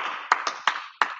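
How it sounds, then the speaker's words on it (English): Four sharp, distinct claps from a youth and adult martial arts class after drills, close and crisp with a steady wash of room noise between them. "Clap it up."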